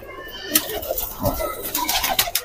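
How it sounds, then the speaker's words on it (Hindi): Soft cooing of a small female Shahjahanpuri high-flyer pigeon with bird calls, scattered rustling and brief clicks, close by, no talk. "छोटी सी कबूतरी है, बिल्कुल छोटी सी कबूतरी है"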